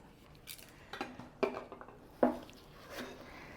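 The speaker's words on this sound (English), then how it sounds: "we're just going to stir them around, fold them in" A spoon scrapes and clinks against a bowl as sprinkles are stirred and folded into soft cake mix Christmas cookie dough, a few sharp taps spread over a few quiet seconds.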